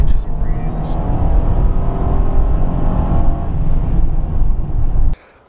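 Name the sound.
2014 Honda Pilot AWD accelerating and shifting gears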